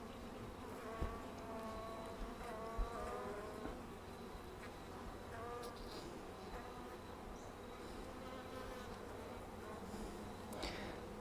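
Honeybees buzz steadily around an open brood frame lifted from a hive, with some bees droning close by against a continuous swarm hum.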